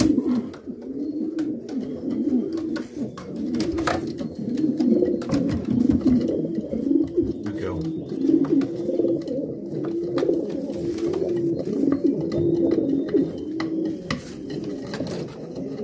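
Racing pigeon hens coo steadily in a loft, soft overlapping throaty calls filling the space, with occasional clinks and shuffling in the background.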